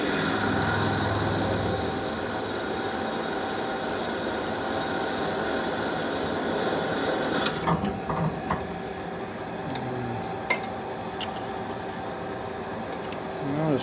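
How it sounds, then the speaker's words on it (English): A reamer cuts a valve guide on a 1974 Harley-Davidson 74ci Shovelhead at 150 RPM, making a steady mechanical whir and grind that roughens and clatters faintly after several seconds. "so usually reamers like to go semi-slow. Alright, I'm going to try 150 RPM."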